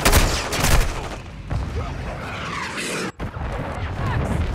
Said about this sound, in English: Movement here. Taking fire!